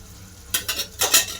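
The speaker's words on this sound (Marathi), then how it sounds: "परतून घ्यायचं." Radish pods being stirred in a pan with a utensil, giving two short bursts of scraping and sizzling against a faint, steady background.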